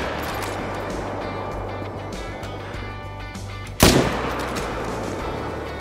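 A single sharp rifle gunshot rings out while hunting a bighorn in the video game Call of the Wild, loud and sudden with a short ringing tail over a low, steady ambient hum.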